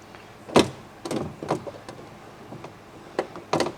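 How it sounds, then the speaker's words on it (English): Glass door window of a 1957 VW Beetle being worked into its track, giving a series of short knocks, scrapes and thumps at an irregular pace, close by and fairly loud, with no talking. "fun trick is to get this window into this right into the track system."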